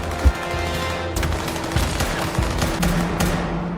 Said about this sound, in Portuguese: os dois grupos vão ficar aí só trocando tiros